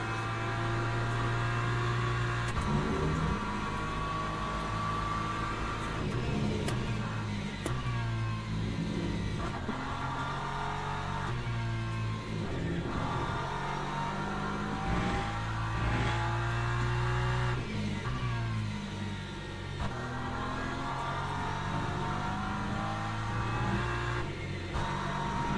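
Lamborghini race car in Le Mans Ultimate, engine droning loudly and steadily with repeated gear shifts and revving surges, heard close throughout with no talking.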